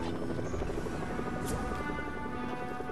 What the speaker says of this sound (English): We got helicopters.